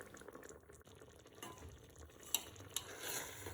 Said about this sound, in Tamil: அரிசியையும் சிக்கன் மசாலா சேர்ந்த கிரேவியையும் நல்லா அடி வரைக்கும் விட்டு நல்லா கிண்டிக்கலாம்